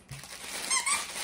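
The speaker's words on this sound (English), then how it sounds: "And it squeaks." A cactus-shaped plush dog toy gives a short, high squeak or two, close by, with faint crinkling and handling noise.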